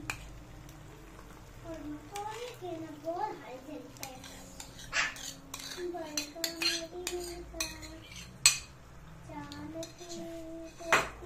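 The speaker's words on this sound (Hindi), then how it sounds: "बस अब हम इसको हल्के हल्के हाथ से थोड़ा सा मिक्स कर लेंगे।" Chicken pasta being gently mixed in a pan with a mayonnaise and yogurt cream, giving soft utensil clinks and scrapes against the pan, moderately close, under a voice talking throughout.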